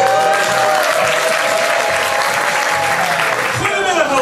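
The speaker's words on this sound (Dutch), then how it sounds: "Een groot applaus voor Coco Coquette." A theater audience at the Casa Rosso applauds Coco Coquette, a loud, sustained wall of clapping mixed with crowd voices and a few whistles, easing slightly toward the end.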